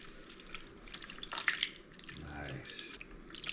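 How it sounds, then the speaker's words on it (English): A liquid is poured over chicken for an Italian-inspired chicken and potatoes dish, a faint, brief splashing trickle in a quiet kitchen. "now we're just gonna pour this on the top."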